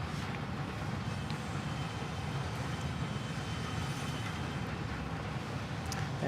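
A Lufthansa Airbus A350 airliner rumbles past at Bangkok Suvarnabhumi airport as a faint, distant, steady jet roar with a broad low wash that neither rises nor fades much.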